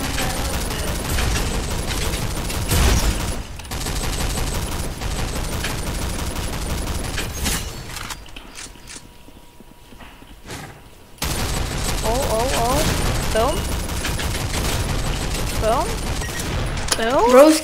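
Rapid automatic gunfire from a weapon in the arena shooter Hellreaver Arena, loud continuous bursts with mechanical clatter, breaking off into a brief lull before the firing resumes.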